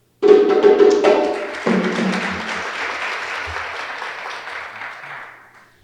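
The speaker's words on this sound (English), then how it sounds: "let's give the graduates another round of applause" An audience at a 2023 Kente cloth graduation ceremony bursts into loud applause that holds steady and then gradually fades away, with a brief vocal whoop near the start.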